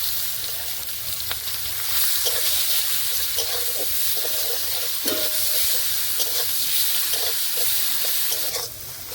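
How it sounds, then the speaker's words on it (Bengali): Whole cumin, dried red chili and chopped onion sizzle steadily in hot oil for a Bengali dumur-prawn kachori filling, a loud continuous fry with occasional spatula scrapes and clinks, no voices. "ফোড়নে দিয়ে দেবো গোটা জিরে, শুকনো লঙ্কা, দিয়ে দেবো কেটে রাখা পেঁয়াজ"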